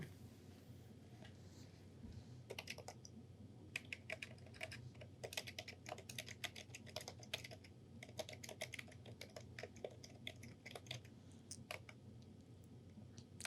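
Typing on a computer keyboard while writing code comments in R, with rapid irregular bursts of crisp key clicks that start and stop, fairly close and clear over a low steady hum.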